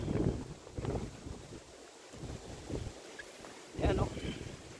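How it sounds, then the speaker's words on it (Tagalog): Strong gusting wind ahead of a typhoon at a sponge gourd farm roars and buffets the microphone in heavy surges, with rustling trees and a voice speaking briefly. "Kung pansin nyo, lakas ng hangin guys."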